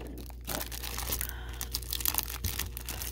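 A baseball card rack pack wrapper is cut and torn open, producing a close, moderately quiet crinkling and tearing of plastic with a few sharper crackles toward the end, no talking.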